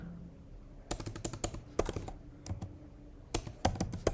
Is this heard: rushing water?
no